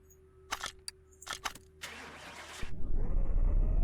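Dom's Dodge Charger from the Fast and Furious films, rebuilt in Car Mechanic Simulator, fires up after a few clicks and a short cranking burst, then settles into a deep, loud rumbling idle. No one speaks.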